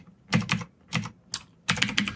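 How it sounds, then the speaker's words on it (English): Typing on a computer keyboard while entering a short code example: close, crisp bursts of clicking keystrokes in four quick clusters separated by brief pauses, with no talk. "let me just type in a really quick code example here"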